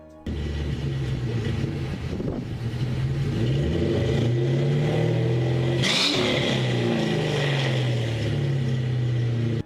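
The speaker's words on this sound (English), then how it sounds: "a great sounding V8 engine" A Ford Mustang GT V8 engine idles and then revs up, its deep burbling tone rising and falling as the throttle opens, loud and close with no talking.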